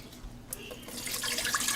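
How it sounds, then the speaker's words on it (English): Water runs from a tap to measure two cups for candy making, a faint trickle that swells into a louder, bright rushing stream near the sink. "We have to start out with 2 cups of water."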